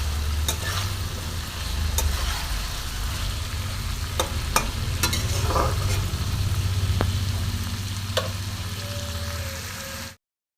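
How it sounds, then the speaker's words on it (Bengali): Potatoes fry with spices for Kashmiri aloo dum over a medium flame, a loud continuous sizzle with a low hum beneath and scattered sharp clinks of stirring, then an abrupt cut to silence. "এবার আলুটা এইভাবে একটুখানি ফ্রাই করে নিচ্ছি মশলার সঙ্গে"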